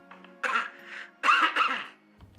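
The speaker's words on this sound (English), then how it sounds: "If you can hear me, please cough." A man coughs into a phone line in two quick bursts, a clear cough followed by a second pair of rough, throaty coughs, close and fairly loud against a quiet background.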